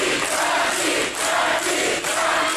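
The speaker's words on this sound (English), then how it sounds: "some chant Rocky, some chant Frankie." Wrestling crowd at a Florida anniversary show, loud and dense throughout, a roaring mass of voices with swells that suggest chanting rather than separate words.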